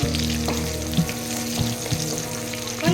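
Curry leaves hit hot oil for a Tamil-style potato fry, giving a loud, steady sizzle with bursts of popping and spattering, close up and with no talking.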